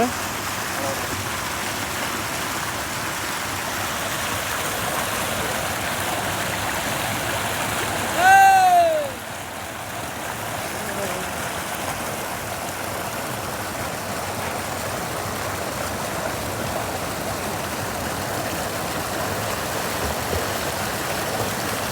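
Heavy rain falls near a river at Kalikesam, a steady broadband wash that runs the whole time, with a brief louder tonal sweep midway, like a passing horn or bird call.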